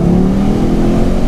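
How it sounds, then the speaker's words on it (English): A 300+ bhp Volvo 850 estate accelerates hard through first and second gear, its engine roaring loudly and steadily up in pitch, close and continuous with no talking. "So, a little first and second gear pull for us."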